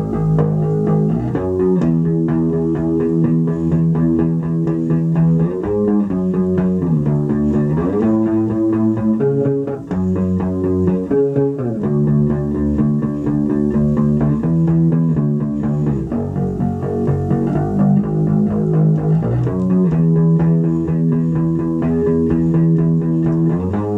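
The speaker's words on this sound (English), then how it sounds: "two takes of the same bass line and ran them through different effects so that they sound" Layered bass guitar line recorded in a studio, two takes run through different effects: a continuous, driving percussive groove with steady pitched notes, playing loud and alone for the whole stretch.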